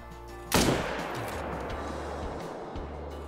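A single sharp hunting rifle shot in theHunter: Call of the Wild, aimed at a deer, cracks out close and loud, then a long rumbling echo fades slowly over outdoor ambience.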